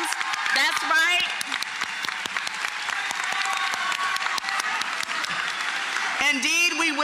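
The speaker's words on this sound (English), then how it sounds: "let's give them a round of applause" Dense, sustained audience applause fills a school promotion ceremony hall, steady and loud throughout with a few cheers and whoops rising near the start and again toward the end.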